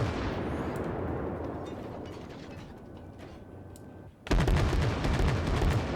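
Anti-aircraft guns fire volleys in the World of Warships naval video game, a dense rattling stream of rapid shots that fades somewhat, then breaks into a louder burst of close, crackling gunfire near the end.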